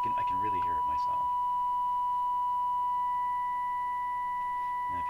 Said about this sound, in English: So you can really hear the harmonic that's showing up at two kilohertz.